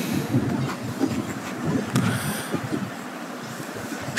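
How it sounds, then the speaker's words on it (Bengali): A passenger train crosses the Jamuna bridge in Bangladesh during rain, with a continuous low rumble and scattered rail clicks and knocks heard from inside the carriage. "আজকে বৃষ্টির মধ্য দিয়ে আমরা ট্রেনে আসছি"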